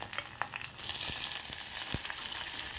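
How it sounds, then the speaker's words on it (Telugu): Steady crackling sizzle of garlic frying in hot oil for a tempering, close and continuous with scattered pops and no voices. "ఒక్కొక్క ఒకదాని తర్వాత ఒకటి వేసుకుంటేనే పోపు బాగా వేగుతుంది"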